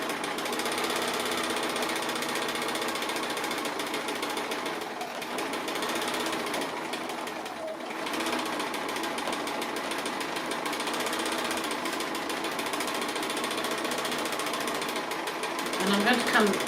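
Domestic sewing machine double-stitching a quilt along a stencil outline, a steady close mechanical whir with rapid needle clatter running continuously and evenly throughout.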